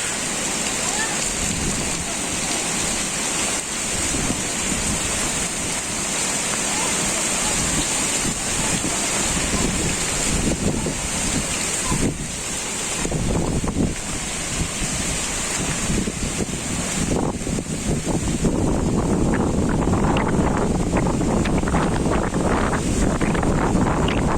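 Strong wind blowing outside a house on an exposed eastern side, a loud continuous roar with gusty buffeting on the microphone, and faint talk beneath it.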